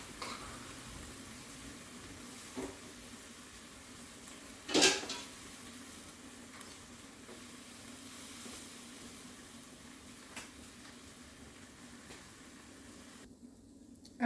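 BBQ chicken sizzles quietly on an indoor grill, a soft steady hiss that holds throughout, with one sharp clatter near the middle and a few faint knocks.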